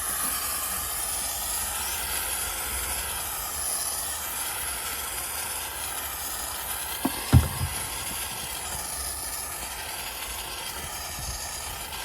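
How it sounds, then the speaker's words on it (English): A steam cleaner hisses steadily against a car's rear window while lifting off old tint film fitted over a rear demister, a constant broad hiss with a brief louder burst partway through. "The steam cleaner definitely helps lift the film off."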